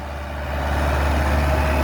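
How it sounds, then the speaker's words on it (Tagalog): A new farm tractor fitted with a rotovator runs with a steady, close, low engine drone that swells slightly after the opening, with no voices. "oh, may bago kang traktora."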